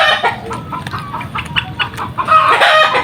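Chickens cluck in a steady busy stream with a rooster's crow rising near the end, close by and fairly loud in a rural Indonesian home kitchen where chicken feet are cooked over a wood-fired stove.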